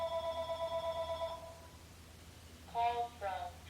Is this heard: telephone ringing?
yes